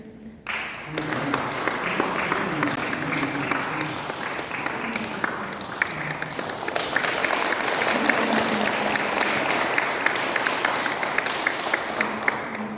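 Warm audience applause at a 99th anniversary June 10th Independence Movement memorial ceremony in Korea, steady clapping that swells after a brief start and holds loud for about twelve seconds.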